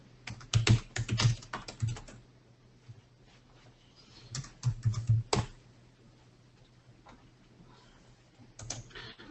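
Someone types on a computer keyboard in short bursts of close, crisp key clicks with quiet pauses between them, and a low steady hum sits underneath.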